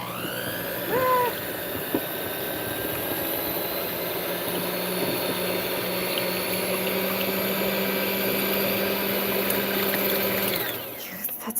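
Electric hand mixer whisking on its lowest setting, a steady motor whir with a faint tonal hum running for about ten seconds before stopping, close by and without talk.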